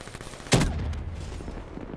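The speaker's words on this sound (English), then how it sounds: "These explosions are ridiculous sometimes." A single sharp explosive blast from Black Ops 3 gameplay hits once, loud and close, then leaves a rumbling low tail that fades over the next second and a half.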